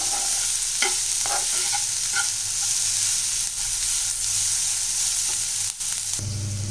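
Onions sizzle steadily in a hot pan, with light scraping and stirring clicks from a utensil over the constant frying hiss.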